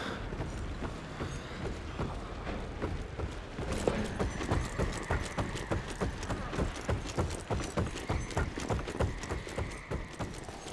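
Horse hooves clip-clop steadily in the video game Evil West, a dense rapid rhythm of hoof strikes layered over a loud, busy game soundscape with no talk.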